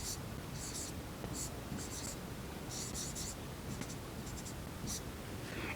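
Pen scratching on paper in short bursts while a maths solution is written out, quiet and close, with soft rustling between strokes.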